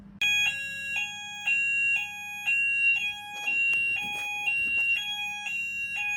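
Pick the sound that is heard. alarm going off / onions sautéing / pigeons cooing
alarm going off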